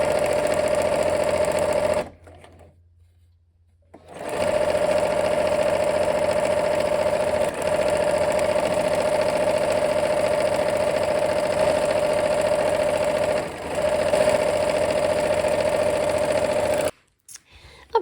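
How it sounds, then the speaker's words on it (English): A sewing machine stitches quilt pieces with a steady, loud, fast mechanical whir. It stops briefly for a couple of seconds, then runs continuously again before cutting off near the end. "let's go ahead and sew"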